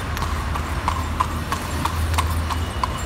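Horse hooves clip-clop on a street in Alexandria in a steady, even rhythm of roughly three strikes per second. The hoofbeats are close and loud over a constant background rumble of traffic.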